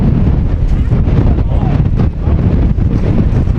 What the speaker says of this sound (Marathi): खूप वारं आहे.